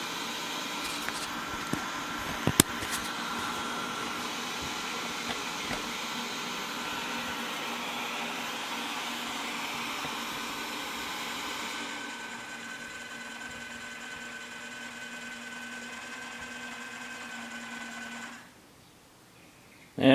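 A Wyze robot vacuum runs steadily with a whirring motor drone and faint brushing noise, a few small clicks early on, then quiets partway and cuts out near the end as it heads back to its charging station.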